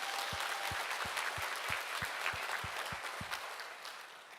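Church congregation at a Sunday service claps together in a steady, even rhythm of about three beats per second, a crowd of hands heard from a distance in a reverberant sanctuary.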